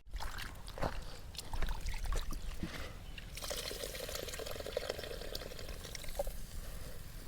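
Water poured into a simmering fish head curry with tamarind, a soft continuous trickle and splash lasting several seconds, fairly faint and close.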